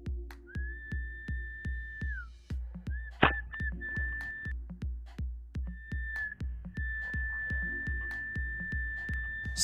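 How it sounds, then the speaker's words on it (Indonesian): A person whistles long, steady tones to coax a fish out while spearfishing, heard over a fast, regular train of low pulsing thumps, with a brief sharp knock in the middle. "Ini masih memakai suara siulan supaya dia mau keluar."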